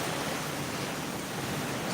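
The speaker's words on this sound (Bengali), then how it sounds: "আমাদের এখানে কিন্তু এখন খুব বৃষ্টি হচ্ছে খুব ভালোই বৃষ্টি হচ্ছে" A downpour of heavy rain roars on continuously, a thick, uniform wash of water noise that stays loud and unbroken, with no one speaking.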